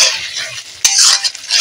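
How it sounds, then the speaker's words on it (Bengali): Spices with ginger paste and cumin water frying in a pan for a meat curry with yogurt and potatoes, stirred continuously; a steady close sizzle with scraping strokes and a sharp clatter midway, no talk. "এইভাবে পুরো 5-7 মিনিট ধরে নাড়াচাড়া করে নেব।"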